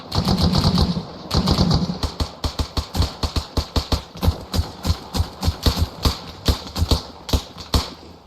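Gunfire in the military video game ARMA Reforger during a squad milsim assault: a steady volley of loud, close rifle shots cracking in rapid succession, preceded by a brief rumbling burst, with no talking.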